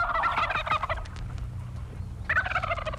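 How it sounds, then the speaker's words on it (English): Turkeys gobbling in a rapid rattling burst, a second gobble answering after a brief pause, loud and close against a low background hum. "The turkeys are loose in Custer County."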